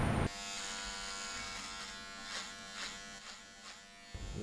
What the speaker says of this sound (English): Which shaver do you use? Philips. Electric.